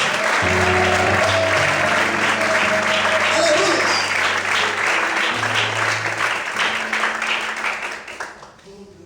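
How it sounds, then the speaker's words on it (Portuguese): Sustained applause from a church congregation praising God, thick and steady with music underneath, then fading away near the end; a voice calls out briefly over the clapping. "Será que você pode aplaudir a Deus?"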